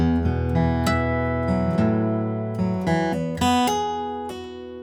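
A distorted electric guitar plays a short melodic riff, sustained, bending notes, steady and fairly loud with no voices.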